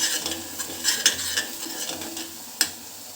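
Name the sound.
curry leaves frying in a pan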